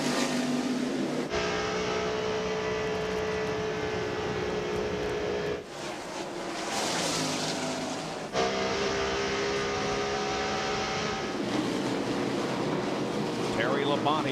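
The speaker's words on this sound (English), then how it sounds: "He's on the inside of Ward Burton. Takes a spot away, moves into 4th." NASCAR stock cars roar around the track at the 1998 Southern 500, a sustained loud engine drone that shifts in tone across several passes, with a race commentator talking over it.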